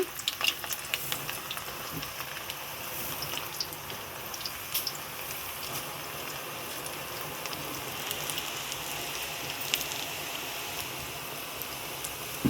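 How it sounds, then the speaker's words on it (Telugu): Karapusa dough made from rice flour and upma rava fries in hot oil, giving a steady close crackling sizzle with fine popping that stays even throughout, no voices. "ఇప్పుడు నూనె అయితే కాయింది ఇందాక మనము గిద్దల పిండి వేసుకున్నాం కదా ఇప్పుడు అదైతే తిప్పుతున్నాము"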